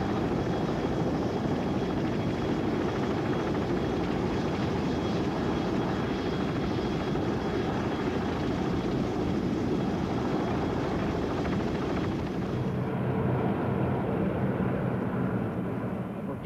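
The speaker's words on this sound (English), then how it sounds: "Medevac helicopters arrived to carry out the first day's casualties" Medevac helicopters flying during the 1991 ground war inside Kuwait, a loud, steady rotor and engine roar that holds at constant strength throughout with no voices.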